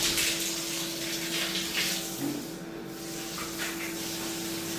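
Warm water runs steadily from a tap into a bath, a continuous close hiss and splash with no talk over it.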